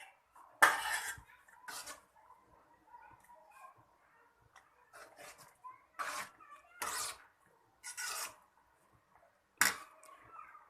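Bisi bele bath powder with grated dry coconut is stirred in a pan: a series of sharp metallic scrapes and clinks from a spoon against the pan, close, spaced irregularly, with quiet gaps between.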